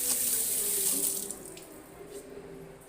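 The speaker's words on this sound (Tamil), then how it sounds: "இப்போ நான் தண்ணி திறந்து விட்டேன்." Tap water gushes steadily from an opened supply toward a washing machine's water inlet solenoid valve, a loud hissing rush that eases slightly partway through.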